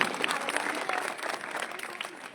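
Studio audience applauds the guardians and mothers on a Bengali television music show, a brief, dense burst of clapping at moderate loudness, continuous throughout.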